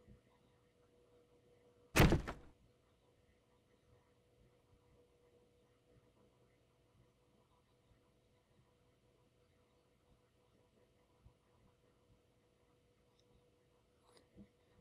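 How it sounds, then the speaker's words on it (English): A single heavy thud of a door being kicked in during To Azimuth gameplay, loud and abrupt against a near-silent room, then only faint low hum and a couple of tiny clicks. "we're just going to go ahead and kick the door in"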